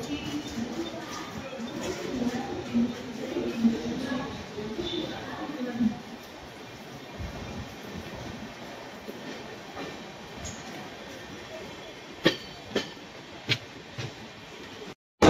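The Pragati Express pulls out of Thane during the monsoon with a low rumble of rolling wheels and carriage noise, heavier at first and then quieter, a few sharp clanks near the end and voices talking early on.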